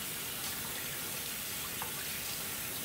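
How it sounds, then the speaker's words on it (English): Tap water runs steadily into a kitchen sink during handwashing, a continuous hissing splash that holds at an even level from start to end, with no speech. "Keep the water running."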